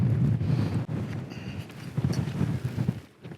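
A Hilleberg Nallo tent flapping in strong wind on a wild camping pitch in the Yorkshire Dales, a steady buffeting rumble with irregular fabric flutters and microphone wind noise, close and fairly loud, with no talking.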